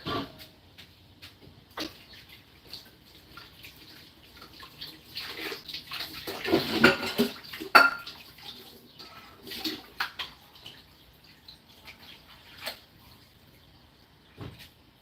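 Running water rinses soap from freshly scrubbed kitchen utensils, with intermittent splashing and a few clunks, swelling louder near the middle and then easing off into quieter trickles.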